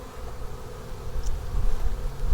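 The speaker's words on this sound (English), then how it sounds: "There are bees in here." Bees buzz steadily inside a damp, moisture-soaked beehive, a close, continuous drone with no voices.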